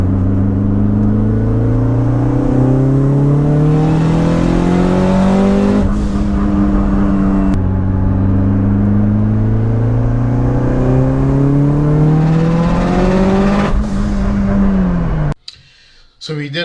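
Tuned car with a 6266 turbo on a stock-block engine running E85, held at wide-open throttle on a dyno with raised wastegate and boost; loud sustained rising engine roar over two pulls, cutting off abruptly near the end.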